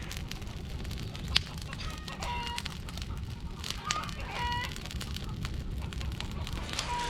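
Chickens cluck and a rooster crows in a backyard chicken run with white hens, the calls repeating intermittently over a steady outdoor rush of wind and a crackling fire, moderately near.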